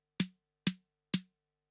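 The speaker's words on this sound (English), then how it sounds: "We now put the drum machine to play it, and it plays the note 4 times." An analog drum machine fires a snare note three times in steady, evenly spaced succession, each hit sharp with a bright noisy crack over a short low body, alone in silence.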